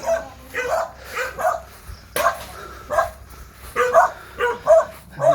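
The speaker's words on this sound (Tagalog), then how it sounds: "May aso." A dog barks repeatedly outdoors in Panabo, Davao del Norte, about ten sharp, close barks in an uneven rhythm, with a few quieter yips in between.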